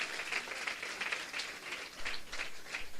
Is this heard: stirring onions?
no